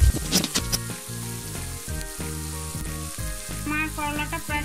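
Bitter gourd (korola) frying in a pan on a very low flame, a steady sizzle under a bed of steady tonal background music, with no voices.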